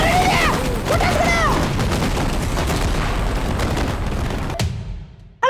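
Diwali firecrackers and fireworks explode inside a fireworks store in a video game, making a dense, continuous barrage of loud crackling bangs and booms with voices shouting over it, then a sudden cutoff and a final sharp burst.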